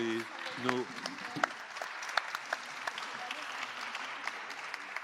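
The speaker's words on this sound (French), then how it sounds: "on peut applaudir" Audience applause for the speakers at an after-work live event, a steady patter of clapping lasting throughout at moderate level, with a few sharper claps standing out near the start.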